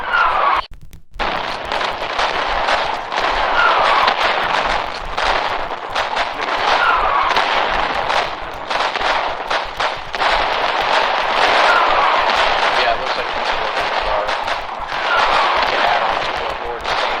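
Dense battlefield gunfire fills a Foxhole match in the Deadlands, with rapid shots and heavier booms rolling continuously, loud and busy, among which a sniper rifle fires.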